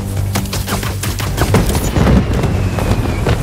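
Fireworks burst in Spider-Man 2 as a loud, dense run of rapid crackling pops and booms, close and continuous, with no voices.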